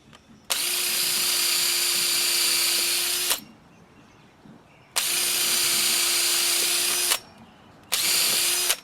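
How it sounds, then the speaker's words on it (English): A power drill drives screws into treated dimensional lumber while building entry steps with a landing, running in three loud, steady bursts of about three seconds, two seconds and one second with short quiet gaps between. "I don't want to overdo screwing either."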